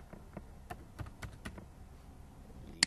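Quiet, sparse keystrokes on a computer keyboard tap out an uneven rhythm of single clicks, close and soft, ending with one sharper click.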